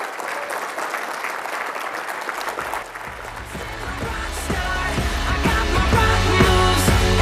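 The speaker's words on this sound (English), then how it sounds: "Give her a round of applause." Audience applause welcoming Angelique Weiley on stage at a 2015 industry speaker day, a broad wash of clapping that swells louder toward the end, with music entering underneath partway through.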